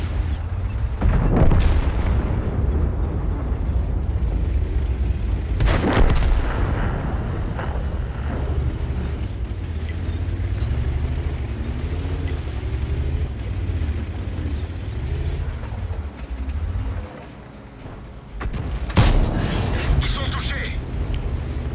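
A 105mm tank gun firing in World of Tanks, heavy booming shots with long rumbling decay heard a few times amid constant engine and battle noise, with someone talking over the game.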